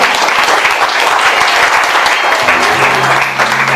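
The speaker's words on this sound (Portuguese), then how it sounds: "Engrandeça Jesus com uma salva de palmas." A church congregation applauds together at a crusade service, dense loud clapping that fills the room, with a sustained musical tone entering partway through.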